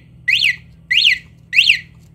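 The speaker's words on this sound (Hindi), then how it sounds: "अगर यहाँ पर मैं थोड़ा सा ऐसे टच करूँगा तो भाई अलार्म बजना स्टार्ट हो जाएगा" A Royal Enfield Hunter 350's anti-theft alarm chirps three times in an even rhythm, each shrill rising-and-falling electronic tone loud and close.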